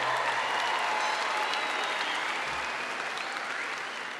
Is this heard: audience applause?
yes